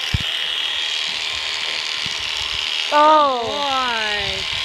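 Electric clippers shear an alpaca's thick fleece with a continuous close buzzing hum, while a voice speaks briefly and a drawn-out vocal sound cuts in near the end.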